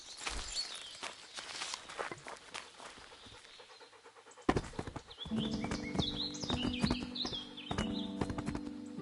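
A dog in the video game Kingdom Come: Deliverance pants in quick, rhythmic breaths alongside horse hoofbeats clip-clopping, with busy game ambience growing louder partway through.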